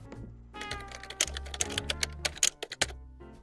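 Keyboard typing used as a typing sound effect for animated text in Adobe Premiere Pro, heard as a run of sharp, close clicks and taps of uneven rhythm over a low hum, with no talking.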